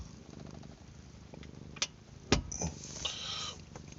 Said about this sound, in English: I was petting this fucking cat